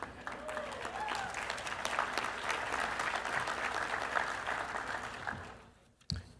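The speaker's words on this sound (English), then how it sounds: "You can cheer." A college convocation audience at Reed College claps and cheers in sustained applause for several seconds, dense and fairly loud, before dying away abruptly near the end.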